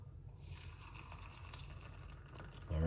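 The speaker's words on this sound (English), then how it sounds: "then we're gonna put some hot water." Hot water runs into a cup holding a rosemary sprig, a steady soft pouring trickle lasting a few seconds before a low bump at the end, with no talking.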